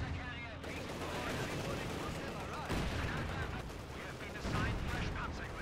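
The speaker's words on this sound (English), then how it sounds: "Come on, mortar, let him have it." Heavy battlefield gunfire and booming artillery blasts from mortar shelling in the Company of Heroes 2 war strategy game, loud and continuous, with strong impacts near 2.7 and 4.5 seconds over dense rumbling combat noise.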